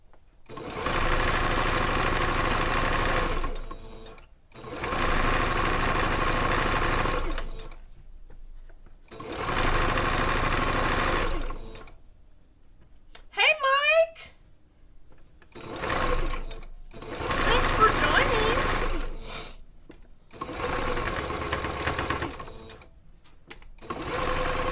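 A sewing machine runs in repeated bursts while understitching a neck facing, several loud stitching runs of a few seconds each separated by short pauses, with a brief squeaky rustle midway.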